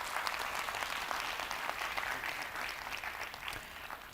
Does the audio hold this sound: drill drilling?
no